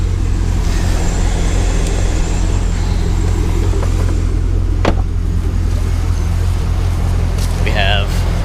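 A 2010 Chevrolet Camaro 2SS, a flood-damaged car, idles out of gear with the parking brake set, giving a steady low rumble throughout; a voice talks over it and a brief click sounds midway.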